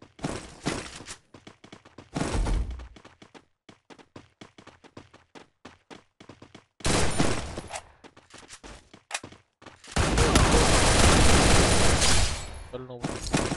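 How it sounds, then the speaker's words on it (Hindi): Loud bursts of gunfire from the mobile battle royale game Garena Free Fire, with dense rapid volleys and a long sustained stretch of automatic fire near the end, broken by quieter gaps of scattered single shots. "अभी यही गन तो चला रहा था मैं।"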